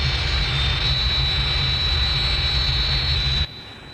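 A target aircraft flies past with a loud, steady engine roar and high whine, then cuts off abruptly near the end.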